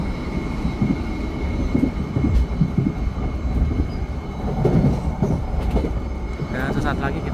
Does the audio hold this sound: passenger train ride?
yes